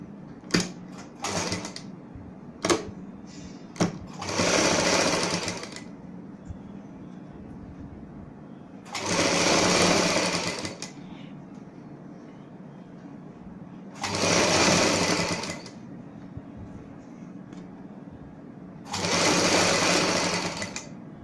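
A sewing machine stitches a blouse back neck strip in four separate close bursts of rapid whirring, with clicks and handling sounds in the quiet gaps between runs.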